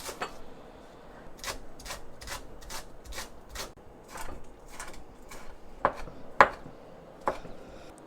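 A knife chops green onion and red chili on a cutting board, crisp close knocks in an uneven series with a few louder sharp strikes near the end and no talk.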